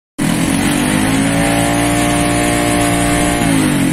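A motorcycle engine starts and runs after a starter is fitted, a loud, steady close idle hum that holds evenly for several seconds with no talk.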